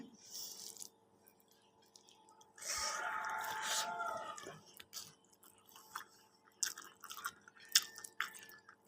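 Someone chewing fried eggplant with hot rice, wet crunchy bites and mouth sounds coming close and intermittently, a rooster crowing in the background midway, no talk.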